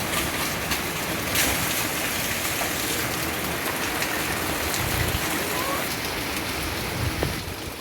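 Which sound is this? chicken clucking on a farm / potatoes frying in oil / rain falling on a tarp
rain falling on a tarp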